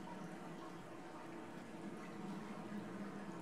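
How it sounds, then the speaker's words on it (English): Waterfall in the video game Dear Esther: a steady, soft rushing of falling water, a continuous wash of noise that stays even and fairly distant throughout. "A waterfall."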